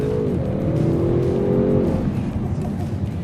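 A 2022 Audi RS6 Avant engine accelerates hard, pitch climbing then dropping at a gear change before pulling again, loud and close with a rumbling exhaust.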